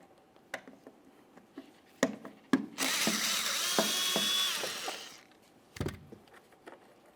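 A power driver spins out 7mm screws holding the rear bumper cover on a 2008-2017 Buick Enclave: one sustained whirring burst of about two seconds, framed by sharp clicks and knocks from handling the tool.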